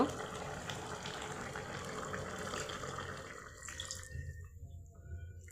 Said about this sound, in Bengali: আমি এই পর্যায়ে এখানে একটু ঝোল দিয়ে দিব